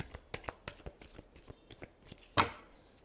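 Tarot cards are shuffled by hand in quick, crisp riffling bursts, a rhythmic series of close taps and flicks ending in one louder snap.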